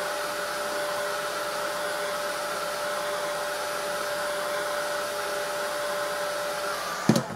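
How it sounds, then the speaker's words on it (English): Heat tool steadily blowing to heat set paint on an art journal page, a loud continuous whirring hiss that runs unbroken and ends with a brief knock as it shuts off. "So I'm carefully heat setting that now."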